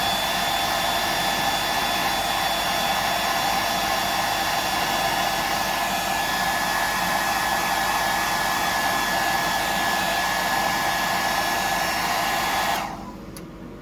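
A hair dryer blowing over a freshly painted 175mm glide mullet fishing lure, a loud steady close whooshing drone held for over twelve seconds before switching off abruptly.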